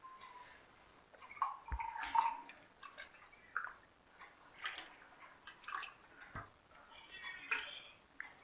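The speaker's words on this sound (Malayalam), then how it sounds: "സെർവിങ് ഗ്ലാസ്സിലേക്ക് ഒഴിക്കുകയാണ്." Jackfruit seed milkshake poured into a serving glass, a faint, close liquid trickle that comes in a few short, uneven spurts with soft drips and quiet gaps between.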